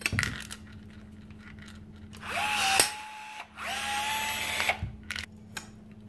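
A Milwaukee M12 cordless rivet tool whirs in two short motor runs, each ending in a sharp snap as the rivet sets, with a clink of the spent mandrel dropping into the catcher. Close and clear, with no talk.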